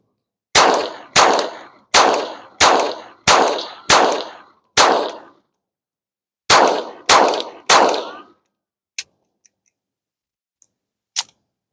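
Taurus TX22 Competition .22 pistol firing eleven sharp shots, a quick string of six, a pause, then three more, each a loud crack with a short ringing tail, followed by faint metallic clicks.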